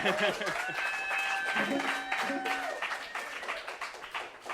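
A studio audience at a live Portland show applauds steadily, dense clapping filling the room while a host talks over it.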